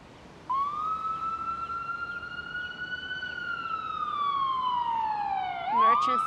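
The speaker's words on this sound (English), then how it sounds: "It's an ambulance." An ambulance siren wails on New Bridge Road in Singapore, a single long rising-and-falling tone sweeping past amid street traffic and growing louder toward the end.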